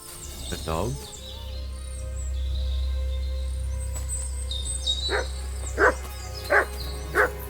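A dog in the medieval game Kingdom Come Deliverance 2 gives four evenly spaced barks near the end, fairly close and clear over a low ambient hum, after an earlier faint yelp.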